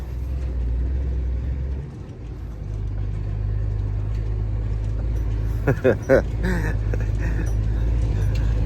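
A car driving across an open field, a steady low engine rumble and drone close up throughout, with a brief rattle of bumps near the middle.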